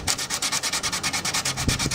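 Sandpaper rubbing varnish off a violin in quick, steady back-and-forth strokes, a close, dry scratchy hiss pulsing evenly with no voices.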